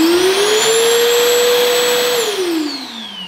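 A Bosch GAS 18V-12 MC cordless vacuum cleaner with a brushless BiTurbo motor runs loud and steady, its whine holding at a constant pitch before dropping as the motor begins to wind down.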